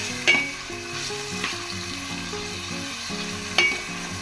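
Two tomatoes fry and sizzle in a pan for a Goan pepper and cumin curry, a steady close crackle with a few sharp stirring scrapes.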